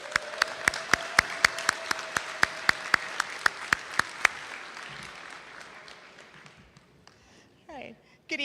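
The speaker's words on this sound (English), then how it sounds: "Let's give her a round of applause" Audience applause for a musician at a high school scholarship night, steady clapping with sharp rhythmic claps standing out through the first four seconds, then fading to scattered claps and room noise.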